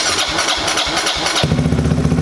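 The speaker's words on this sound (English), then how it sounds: "I think we're good to go on firing it up." A fuel-injected Kawasaki KLX110 engine fires up after a noisy cranking sound, then settles into a steady, close, loud idle with a rapid pulsing beat.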